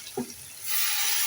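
Chicken stock (yakhni) for degi pulao pours into a pot, a brief clink followed by a steady rushing splash that starts midway and continues to the end.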